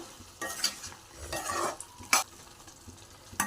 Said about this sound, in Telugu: కోసి పెట్టుకున్న బెండకాయలని వేసుకుందాం ఒకసారి కలుపుకుందాం